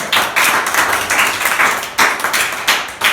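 A church audience claps rhythmically and loudly in praise, with repeated sharp, close hand claps in a steady beat throughout.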